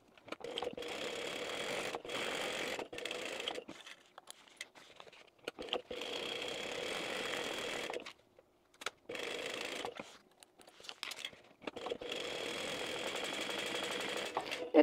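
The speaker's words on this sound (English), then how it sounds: "If you just hold it gently and let the machine pull it through, you're going to not go crooked." A sewing machine stitches quilting through a bag panel in several sustained runs of rapid mechanical whirring, broken by short pauses, close and clear with no talk.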